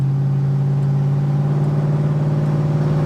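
A Holden HK car engine that burns oil hums steadily at an even pitch throughout, with a constant low throb and no rattles or knocks.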